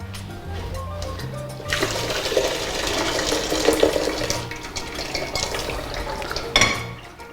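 Pasta draining through a sieve, with a steady rush of water pouring and splashing for several seconds, loud and close, with a brief clatter near the end.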